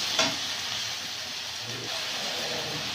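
Spice paste of chilli and turmeric powder frying and being stirred in hot oil for a village-style egg and potato curry, a steady close sizzle with soft scraping stirs throughout.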